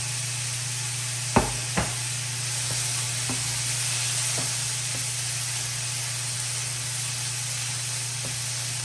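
Shrimp are dropped into a hot pan for chow mein and set off a loud, steady sizzle that hisses throughout. Two sharp clacks come near the start, followed by faint taps of utensils.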